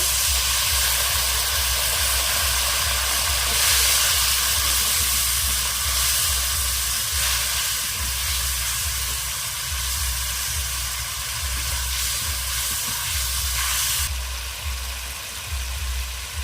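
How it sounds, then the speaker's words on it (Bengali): Ground spices with cumin powder, chilli powder and a little sugar being fried down with water in a pan, giving a loud, continuous close sizzle that barely changes for the whole stretch. "জল দিয়ে মশলাটা আমি ভালোভাবে কষিয়ে নেব"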